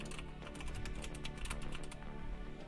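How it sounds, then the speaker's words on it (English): A clacky computer keyboard is typed on at a desk, a fast, continuous run of sharp key clicks, moderately close and faint, with no talking. "You're gonna hear my clacky keyboard real quick."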